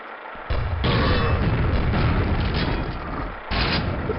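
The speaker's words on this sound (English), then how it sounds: "I use a rocket launcher to kill off these initial zombies, but then I use a grenade launcher to bank these into the other zombies behind them" Booming rocket and grenade launcher explosions in the video game Quake, fired at zombies, form a loud, sustained rumble of blasts and mechanical clatter with sharp onsets near the start and again toward the end.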